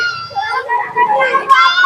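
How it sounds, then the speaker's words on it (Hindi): Children shrieking and chattering noisily at close range in a Delhi slum, their high voices overlapping loudly throughout. "बच्चों का शोर देखिए"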